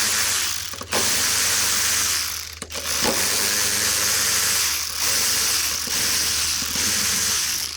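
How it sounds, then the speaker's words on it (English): Ratchet wrench clicking as M10 bolts are slackened on a 2006 Suzuki DF2.5 four-stroke outboard, a steady close run of fast pawl clicks with short pauses between strokes over a constant low hum. "So we'll start by slacking them all off."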